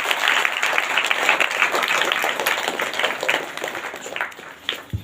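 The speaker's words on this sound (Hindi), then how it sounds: "जोरदार ताली से प्रभु धन्यवाद।" A church congregation at a Sunday service breaks into loud, sustained clapping and applause that carries almost to the end before tapering off.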